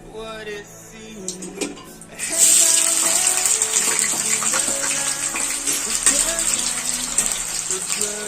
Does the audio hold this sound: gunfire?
no